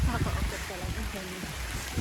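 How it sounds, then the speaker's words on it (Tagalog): Rain falling outdoors in Bicol, heard while sheltering under a tree: a steady, close hiss of rainfall that fills the whole moment, with people talking over it. "inabot kami ng ulan"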